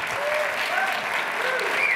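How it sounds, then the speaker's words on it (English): Audience applause at a product launch event, a steady, dense round of clapping with some whoops and faint voices mixed in. "big round of applause for Kevin and his team."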